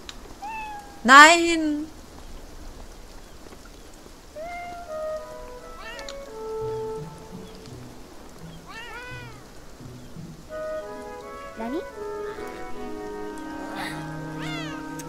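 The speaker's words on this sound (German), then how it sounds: "Jetzt höre ich den Kater links aus meinem Ohr." A cat meows several times in the video game Beyond Eyes, one loud cry early and quieter mews later, amid synthetic game tones; a voice speaks briefly.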